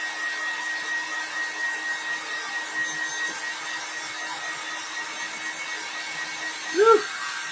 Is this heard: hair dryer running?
yes